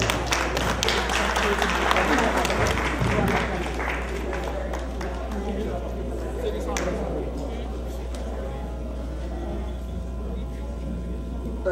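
An audience at a cultural evening ceremony applauds, a dense, loud wash of many hands clapping that peaks early and then holds steady, with some speech mixed in.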